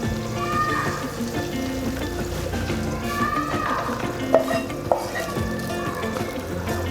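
Hot tadka tempering with ginger is poured over mutton kunna and sizzles steadily, with crackling spits and a couple of sharp pops partway through.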